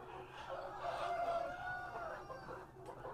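Free-range chickens roaming a Vietnamese garden farm, a rooster crowing with hens clucking nearby, fairly faint with soft background noise.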